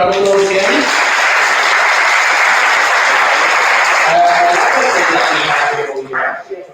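A conference audience applauds a speaker after a talk on Expo: dense, steady clapping fills the room for about six seconds, then tapers off near the end.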